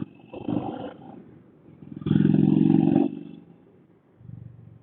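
A 2018 Indian Roadmaster motorcycle engine revs up close in two loud, throaty bursts, the second longer and stronger, then settles back to a low idle.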